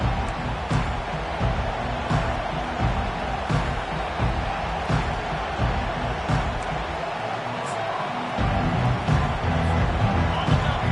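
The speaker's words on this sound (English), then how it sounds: "This crowd bringing an ear-splitting welcome to their visitors." Stadium crowd at a Texas A&M American football game roars in a steady, broad wash of cheering that runs throughout, with an announcer talking over it.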